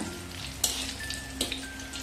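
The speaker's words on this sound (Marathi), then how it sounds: "आता आपण त्याच तेलामध्ये ह्या मिरच्या पण घालूया." Green chilies, slit lengthwise, frying in hot oil for crispy onion bhaji, giving a steady close sizzle with a couple of sharper pops and crackles.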